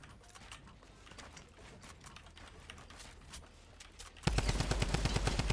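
Rapid automatic gunfire from a gun in the video game Fortnite erupts loud and close for the final second, with a quieter stretch of faint game noise and ticking before it.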